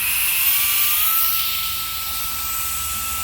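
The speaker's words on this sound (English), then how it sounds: "So we're going to try to blow these leaves with it." An electric air duster, the MECO ELEVERDE, fitted with a leaf blower tip and blowing leaves, gives a loud, steady airy whine and hiss with a thin high tone running through it, holding constant throughout.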